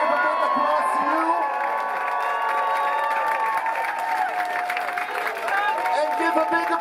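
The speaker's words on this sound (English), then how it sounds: "Give a big applause to you." A crowd at a small Liverpool music club cheers and applauds a German band, with whoops and shouts over dense clapping, loud and continuous throughout.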